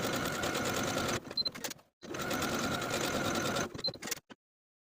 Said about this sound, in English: Then I'll take it to my sewing machine and sew those buttonholes in place.